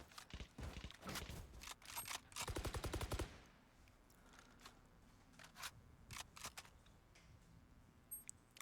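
Rapid automatic gunfire sprays in the video game Valorant, a quick rattling burst near the start followed by scattered single shots and clicks, fairly faint overall.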